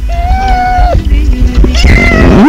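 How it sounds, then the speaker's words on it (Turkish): A hungry cat meows loudly and close, with one drawn-out mew, a shorter cry, then a rising wail at the end, over background chatter in a voice chat room. "Evet, kedi acıkmış."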